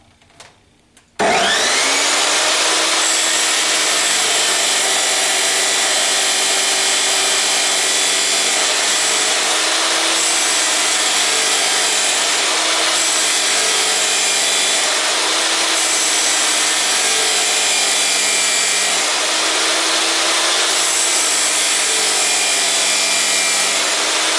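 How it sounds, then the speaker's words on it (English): A chop saw cuts through steel exhaust pipe during a 1976 Corvette restomod exhaust install, a loud sustained whining grind after a sharp start, continuing steadily for over twenty seconds with slight shifts in pitch. "So I set my piece of pipe up in my chop saw right on that 5 1/4 mark, and I'm going to take that off."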